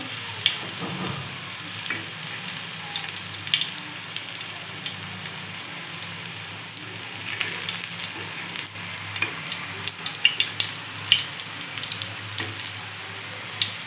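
Taro leaf vadi slices sizzle steadily in hot oil in a pan, a dense frying hiss broken by occasional scrapes and taps as the pieces are flipped, close and continuous with no talking.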